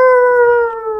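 Wolf scream as a story sound effect, a single loud sustained howl-like wail with a steady tone that tapers off at the end, close and alone.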